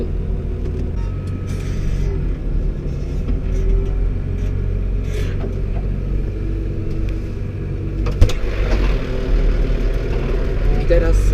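A New Holland TM 115 tractor's 115-horsepower non-turbo engine runs on a farm during manure transport, giving a steady low rumble throughout with a brief clank near the end and faint voices under it.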